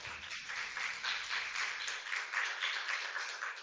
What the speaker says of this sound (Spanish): Le damos un aplauso al profe de Zetawi.